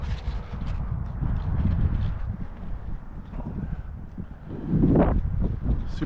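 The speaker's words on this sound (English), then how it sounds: "Super windy out." Strong wind buffets the microphone outdoors at a model jet flying field, low rumbling gusts that swell and ease, with a heavy blast near the end.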